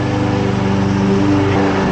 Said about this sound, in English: she's out there mowing the lawn